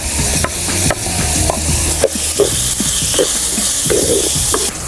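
Chopped onions fry in hot oil for a Kerala-style chicken curry, a close, continuous sizzle with frequent spoon scrapes and taps against the pan as they are stirred.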